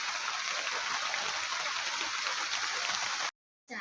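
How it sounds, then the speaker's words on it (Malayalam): Heavy rain falls outside as a dense, even hiss that holds steady and faint, then cuts off sharply near the end with a brief silence. "ഇപ്പോൾ മഴ പുറത്ത് നല്ല മഴയാണ്."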